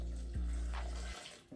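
Water from a measuring cup pours into a blender jar alongside onion, garlic and jalapeño for soup, a steady close splashing stream that runs for about a second before stopping, with a brief drip after.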